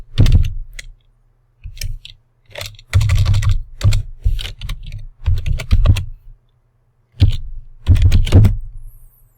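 Bursts of keyboard typing on a computer, clicky keystrokes coming in short rapid runs separated by brief pauses, close and fairly loud, with no voices.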